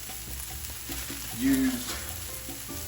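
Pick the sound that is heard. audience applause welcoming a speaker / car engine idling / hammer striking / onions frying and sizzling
onions frying and sizzling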